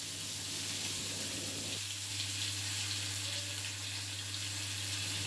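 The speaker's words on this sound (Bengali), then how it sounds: "তেলটা যখন ধোয়া উঠবে একটা করে কই মাছ ছেড়ে দিচ্ছি।" Koi fish being fried in smoking-hot oil in a kadai: a steady broadband sizzle and hiss, fairly loud and close, with a brief rougher burst early on as a fish goes in, no talking.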